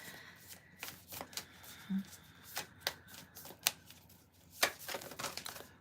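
Close, quiet shuffling of a card deck, a run of soft riffling snaps and taps in an irregular rhythm over a faint background hum, with no one talking.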